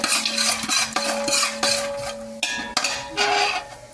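Chana dal and urad dal roast in ghee in a pan, with a spoon repeatedly scraping and clinking against the metal and a faint sizzle underneath, close and rhythmic.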